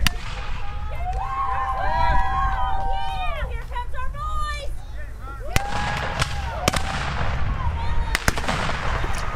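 Sharp rifle and cannon reports crack out at intervals during a Civil War reenactment of General Hardee's retreat, mixed with shouting and bustle from the reenactors nearby.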